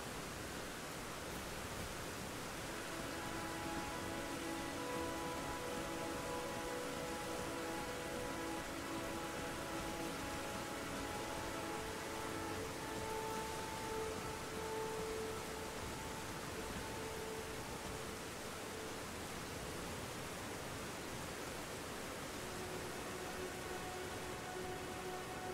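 Steady, even rain falls in the video game Elden Ring, a constant hiss with faint tonal ambience underneath and no voices.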